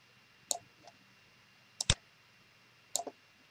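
A computer mouse clicks a few times while someone works in Fusion 360, giving three or four sharp, isolated clicks spaced about a second apart. The clicks are close and crisp over a quiet room.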